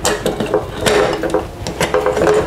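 A pressure cooker pot is handled in a kitchen while melo snails are prepared for cooking, with repeated metallic clanks, clicks and ratcheting knocks from the pot and lid, close and fairly loud, coming in quick irregular bursts.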